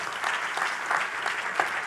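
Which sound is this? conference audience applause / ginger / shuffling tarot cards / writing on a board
conference audience applause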